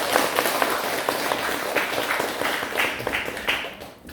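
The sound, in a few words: applause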